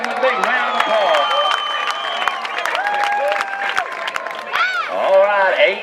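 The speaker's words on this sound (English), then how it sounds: "send her on home with a big round of applause" Rodeo crowd applause and cheering rise beneath a loud announcer speaking over the arena's public address system throughout.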